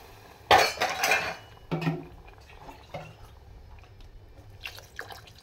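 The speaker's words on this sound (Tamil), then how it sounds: "கொஞ்சோண்டு தண்ணி சுடு தண்ணி எடுத்து வச்சு ஊற்றிக்கோங்க" Hot water poured into a cooking pot in a home kitchen, with a splashy pour, metallic clinks of the pot and utensils, and a few quieter knocks and drips, close and moderately loud.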